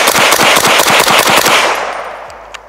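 A 7.62 rifle fitted with a SIG SLX low-tox suppressor fires supersonic rounds in a rapid string of about ten loud, sharp cracks, followed by a fading tail and one faint later report.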